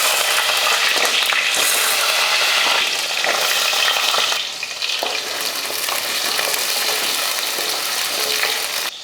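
Onions sizzle in hot oil with fenugreek, mustard seeds and curry leaves, tempering a curry in a home kitchen. The frying crackles loudly and steadily throughout, up close, with no talking.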